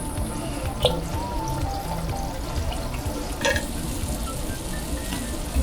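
Korean maejakgwa dough sizzles and crackles in hot oil, a steady frying hiss with a couple of sharper pops.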